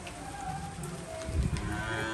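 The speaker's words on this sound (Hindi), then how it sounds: "देखो बारिश आ रही है" Steady rain patters as a soft, continuous hiss on surfaces nearby, with a slightly louder rumbling swell midway and no talking.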